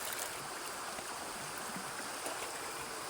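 A strong, swollen river current rushes steadily in high water, a loud, continuous broadband roar with no pauses and no voices.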